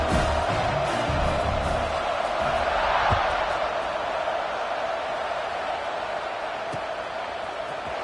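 A large college football stadium crowd roars steadily in the distance as the home defense takes the field, a broad sustained cheer that holds throughout with little variation.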